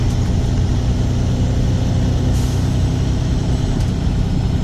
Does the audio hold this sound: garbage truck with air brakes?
yes